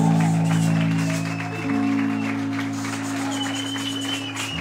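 A church congregation applauds during worship, moderate clapping running under a sustained musical tone that shifts pitch partway through, with no one speaking over it.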